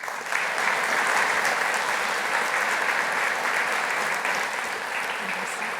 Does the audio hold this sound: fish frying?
no